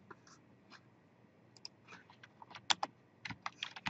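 Light typing on a computer keyboard, a scattered series of soft key clicks that bunch into quicker bursts toward the end, quiet and close with no talking.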